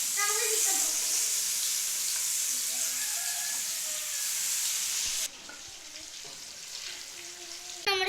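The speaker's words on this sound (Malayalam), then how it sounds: "ആദ്യം ചിക്കൻ പൊരിച്ചെടുക്കണം കേട്ടോ." Chicken fries in hot oil in a pan with a loud, hissing sizzle that drops to a softer crackle partway through. A voice speaks intermittently over the frying.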